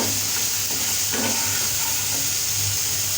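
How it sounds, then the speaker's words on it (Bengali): Raw spice paste frying in oil for a pabda fish curry made with roe-filled fish gives a steady, close sizzling hiss that runs without a break, with faint stirring and no talking. "আমি ভিতরে কাঁচা মশলাগুলো করে দিয়ে ভালো ভেজে নিচ্ছি"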